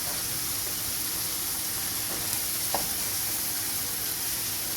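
Mushrooms frying in margarine in a pan, giving a steady, close sizzle with a faint crackle throughout and no talking.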